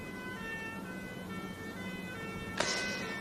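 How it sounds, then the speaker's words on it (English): A faint emergency siren wails in the distance, its steady tone sitting low under the background hum, with a brief sharp knock near the end. "I can hear a siren."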